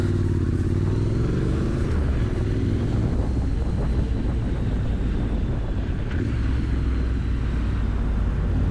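A Triumph Street Scrambler motorcycle pulls away and accelerates through smooth gear changes, its engine droning loud and continuous under heavy wind rush.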